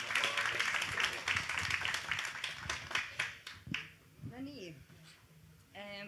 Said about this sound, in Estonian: teeme neile ühe suure aplausi